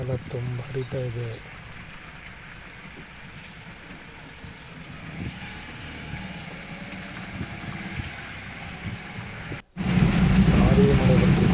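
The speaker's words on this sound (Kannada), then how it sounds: "ಭಾರೀ ಮಳೆ ಬರ್ತಿದೆ." Heavy rain in the Malnad hill region, a steady wash of falling water with a brief voice at the start, dropping out for a moment near the end before returning louder and denser.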